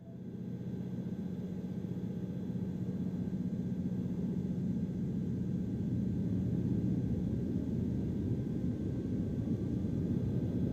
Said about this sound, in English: Then turn the engine switch from run to idle.